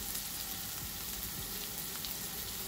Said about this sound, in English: So when it's sizzling all sweet and nice